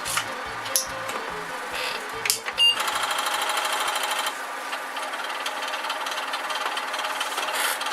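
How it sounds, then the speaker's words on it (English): Apple II clone's floppy drive loading Where in the World Is Carmen Sandiego, a loud, steady mechanical chatter and grinding buzz running continuously for several seconds after a few brief knocks, with no talking. "Kind of a noisy floppy drive, isn't it?"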